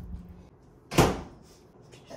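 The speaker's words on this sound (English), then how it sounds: "Drawer of goodies." A drawer of goodies is pulled open in a single sharp wooden slide-and-knock near the middle, close and fairly loud, set between quiet room background.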